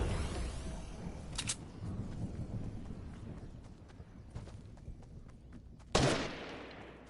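Scattered gunshots in the video game Fortnite, mostly faint and distant, with two sharper, louder cracks standing out near the start and near the end over a steady game background.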